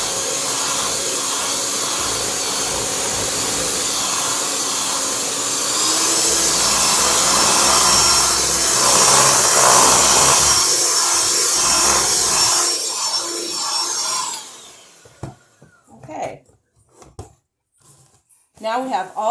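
An electric mixer beats peanut butter cookie dough in a mixing bowl, running as a loud continuous whir for about thirteen seconds before shutting off, followed by a few scraping clatters and brief talk.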